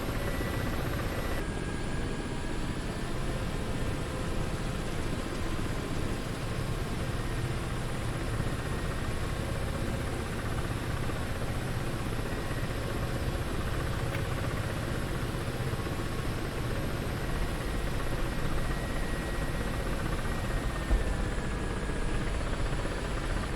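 A Ka-50 Black Shark coaxial helicopter in DCS World flies with a steady, continuous rotor and turbine drone. It holds at an even level throughout, close in the cockpit, with a faint high whine above it.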